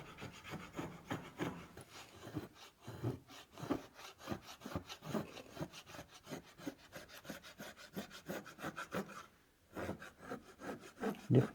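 A very sharp hand plane shaves wood for a classical guitar rosette, making repeated rasping strokes in a steady back-and-forth rhythm, close and moderately loud, with a short pause near the end.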